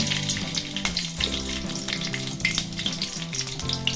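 Peanuts and chilies fry in hot oil for a fasting-style sabudana misal, giving a loud, steady, close-up sizzle with occasional stirring and no talking.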